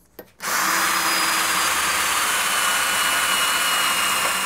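A power drill bores holes in caps for a DIY steadicam, starting after a brief click and whirring up into a loud, steady, continuous high-pitched drone close by.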